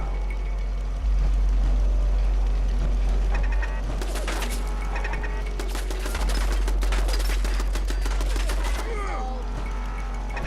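Video game gunfire erupts in rapid bursts and volleys of shots, loud and sharp over a low rumbling backdrop, with short pauses between clusters.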